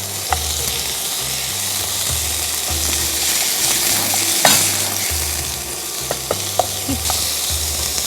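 About 250 grams of small-cut beef for Japanese beef curry fries in a pan, sizzling loudly and steadily while a spoon scrapes and clicks against the metal at close range.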